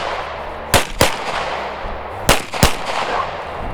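Four sharp pistol gunshots at a training drill, two close pairs about a second and a half apart, loud against a quiet outdoor background.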